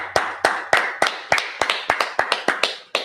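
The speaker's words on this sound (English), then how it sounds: "Let's go ahead and clap it up." An audience claps at a Feast of Tabernacles opening night service, sharp rhythmic claps in a steady beat of roughly three to four per second, close and fairly loud.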